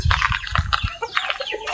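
Hens making brief, choppy clucks at close range over a low rumble, several quick calls packed into a short burst.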